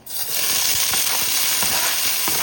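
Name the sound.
vegetables frying in a hot pan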